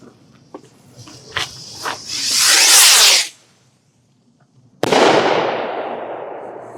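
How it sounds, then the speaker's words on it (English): Red canister firework rocket launching outdoors, with a few sharp crackles and a rising hiss that swells loudly and cuts off, then after a pause a sudden loud burst that decays into a long fading hiss. "This is the red canister. Red canister, Redneck rocket."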